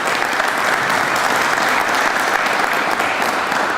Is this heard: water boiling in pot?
no